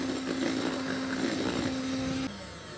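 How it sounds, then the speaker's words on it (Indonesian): Electric mixer beating pukis batter mixed with water and coconut milk, a steady close motor whine with broadband churning that cuts off abruptly near the end, no talking. "Lalu kita mixer."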